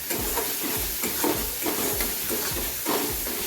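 Onions fry in oil with turmeric in a pan for a Bengali tangra fish tel jhal, a steady sizzle broken by repeated scraping strokes of stirring, close and even, with no talk.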